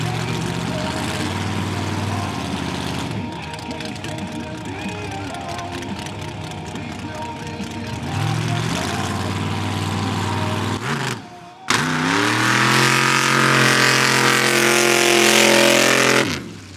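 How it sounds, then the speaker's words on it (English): Mud drag race car with a carbureted 427 big block running nitrous roars loudly and continuously at an outdoor mud drag event, revving up and down with a brief cut before surging again, while announcers talk over it. "This is a 427 big block. Now you can see it's got a carburetor. You see it's got nitrous,"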